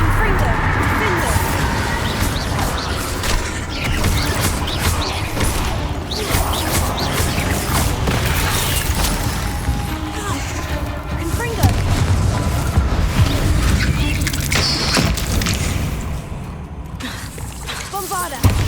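Confringo fire spells blast in the video game Hogwarts Legacy during a spider fight, dense rumbling explosions and crashes layered continuously over loud game action while a voice talks over them.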